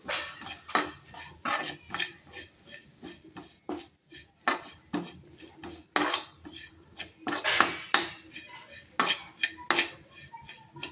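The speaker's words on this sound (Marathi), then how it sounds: "थोडेसे ओट्स पण परतून घेते।" Oats stir-roasted in a pan with turmeric, a spoon knocking and scraping against the metal in an uneven string of close clatters, with no voices.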